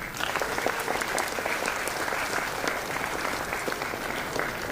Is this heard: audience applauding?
yes